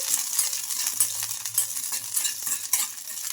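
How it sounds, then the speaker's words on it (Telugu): Green chillies frying in a spoonful of oil, a steady soft sizzle with occasional stirring scrapes, close by and without talk. "ఇంకా మనం ఈ మిర్చిని బాగా ఫ్రై చేసుకుందాం"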